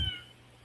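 A cat meows once in the video game Indigo Park, a short, close, fairly quiet call that fades into a low hum.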